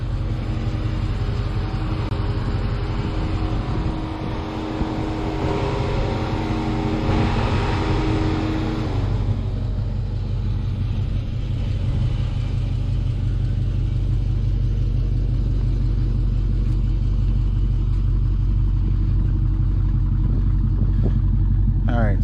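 A 2017+ Dodge Charger or Challenger V8 (5.7, 6.4 or 6.2) with its active exhaust valve bypassed, idling nearby with a deep, steady, unbroken exhaust rumble throughout.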